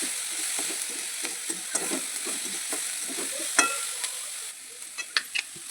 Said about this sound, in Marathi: कांद्याला व्यवस्थित परतून घ्या.